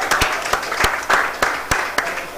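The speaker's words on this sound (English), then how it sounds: "Clap for him again." An audience at a live televised genius competition final claps in sharp, evenly spaced bursts, a moderately near, sparse applause with faint crowd murmur beneath.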